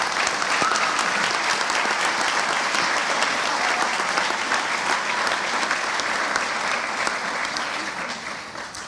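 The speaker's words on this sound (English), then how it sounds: "if you could give them a round of applause tonight" A crowd at a county recreation and parks volunteer awards ceremony claps for staff. The applause is full and continuous from many hands in a hall, holding steady throughout and tapering slightly at the close.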